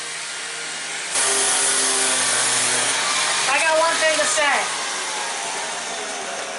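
A power tool whirs loudly during a houseboat renovation, starting abruptly and running as a steady high-pitched motor drone with a brief rising-and-falling surge partway through, while a person speaks over it.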